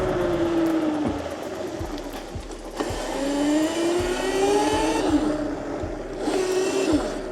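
A 48V Razor MX650 electric dirt bike is ridden on local trails, its motor whine rising and falling in pitch with repeated throttle bursts, close and steady with no talking.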